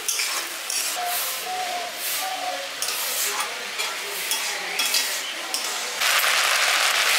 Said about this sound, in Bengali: এবার চালটা আমি মিশিয়ে নিচ্ছি। এটাকেও হালকা হালকা ঘিয়ের মধ্যে একটু মিশিয়ে নিচ্ছি।